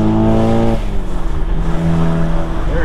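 A Volkswagen MK7 with a turbocharged engine revs hard and loud up close. A rising engine tone breaks off into a rougher, sustained roar with turbo whoosh as it pulls away.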